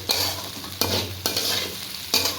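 Potato, okra and poppy seed frying in a pan while being stirred: a continuous close sizzle broken by four sharp scraping strokes of the spatula against the pan, with no talking.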